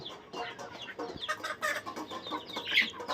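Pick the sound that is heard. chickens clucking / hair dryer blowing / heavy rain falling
chickens clucking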